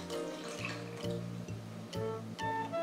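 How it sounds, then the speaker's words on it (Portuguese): Ice-cold water is poured into dissolved gelatin in a steady, close splashing stream, with a few brief pauses and restarts as the liquid fills. "acrescenta 250 ml de água gelada"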